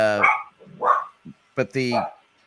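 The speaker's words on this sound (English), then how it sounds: "I really do love this little dog, but she barks at everything." A small dog yaps in a few short, close barks scattered among people talking, the barks loud and sharp against the voices.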